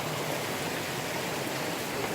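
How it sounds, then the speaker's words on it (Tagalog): Small waterfall on a hiking trail on Mt. Canlaon, a steady, dense rush of falling water close by, constant and unbroken with no voices over it. "The mini falls"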